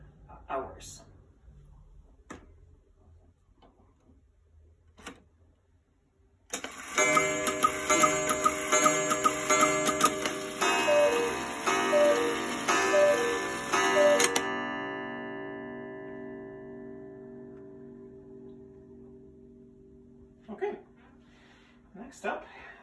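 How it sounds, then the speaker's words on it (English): A cuckoo clock with a quail call sounds its chime, ringing bright overlapping tones for several seconds that then decay slowly, with soft clicks and a brief voice before and after. "So you will hear 4 quail squawks followed by the number of hours."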